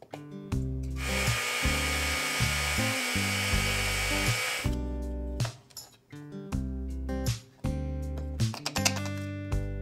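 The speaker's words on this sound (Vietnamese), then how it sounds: "Sữa bột của mình hạt cũng tương đối to nên mình có xay cho nó mịn hơn" A small kitchen grinder runs in a steady high whine as it grinds coarse milk powder finer, then pulses in short bursts, with clattering and tonal hum in the gaps.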